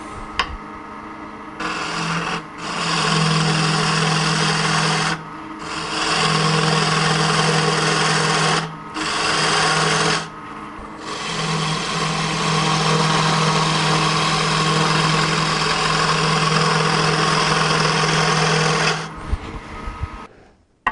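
A wood lathe spins a table leg as a tool cuts a smooth taper, a continuous whirring, rasping cut broken by several short pauses between passes, close and loud with no talk.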